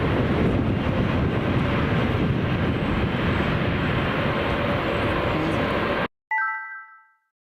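An Airbus A321 airliner at London Heathrow Airport roars in a loud, steady jet engine drone that holds strongly for several seconds before cutting off abruptly. A brief chime rings out just afterward.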